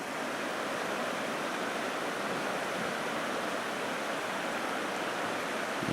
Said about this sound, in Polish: Rzeka Barguzin.